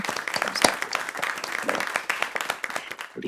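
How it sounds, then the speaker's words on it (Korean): A Korean church congregation in Vienna claps together after a sermon, a dense, steady burst of many hands filling the room for about three seconds at close range, with a faint murmur of voices mixed underneath. "모든 영광을 우리 하나님께 한번 박수로 올리기를 바랍니다"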